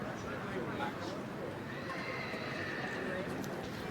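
A large partbred horse whinnies in a show ring during a lap of honour, the neigh rising out of a steady crowd and arena din, with faint hoof clip-clop and some talk underneath.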